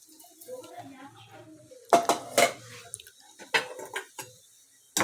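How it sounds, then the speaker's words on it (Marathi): A spoon stirs sugar into sweet churma made from leftover chapati in a metal pan. After some talk, it makes bright clinks and scrapes in quick irregular bursts. "आणि आता हे हलवून घेऊया आपण चांगलं नीट"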